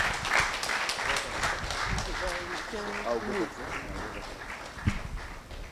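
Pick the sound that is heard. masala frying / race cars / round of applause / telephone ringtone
round of applause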